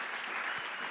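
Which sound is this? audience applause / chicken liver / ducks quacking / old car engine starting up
audience applause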